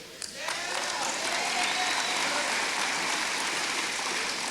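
Sustained audience applause at a military academy graduation, dense and steady, swells in after a brief start and continues at full strength without pause.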